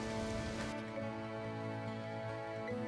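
Rain falling in the video game Harvest Moon: Animal Parade, a steady soft hiss of rainfall running evenly under game music, faint and continuous, with no talking.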